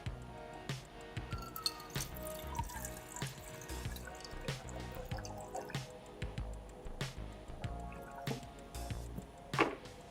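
Water poured into a container for a film developing kit, a steady trickling and dripping splash that continues for about ten seconds, close and fairly quiet, with no talking.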